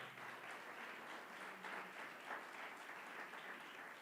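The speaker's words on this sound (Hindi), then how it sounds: "जोर से प्रभु के लिए ताली बजाएंगे।" A congregation at a Christian spirit conference claps for the Lord, a faint, even wash of many hands clapping continuously, heard distant and without a break.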